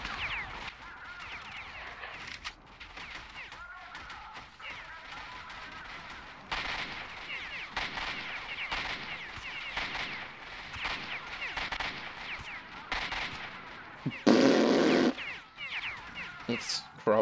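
Scattered gunshots ring out in the video game S.T.A.L.K.E.R.: Shadow of Chernobyl, sharp cracks interspersed with someone talking, including one loud, harsh burst near the end.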